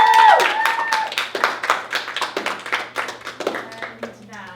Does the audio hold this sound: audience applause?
yes